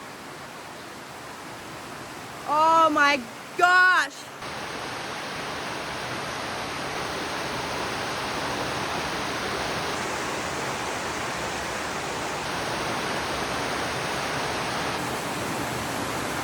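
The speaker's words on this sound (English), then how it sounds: "There is so much water coming out of my gutter." Heavy rainwater gushes from a house gutter as a steady, loud rushing splash throughout, with a person briefly exclaiming early on.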